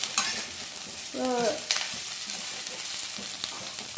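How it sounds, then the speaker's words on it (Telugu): Garlic frying in a pan gives a steady, close sizzle with occasional stirring scrapes and a short tonal squeak partway through. "వెల్లుల్లిపాయలు కూడా చాలా మంచిది ఇప్పుడు ఇలాగా ఫ్రై అవ్వాలి"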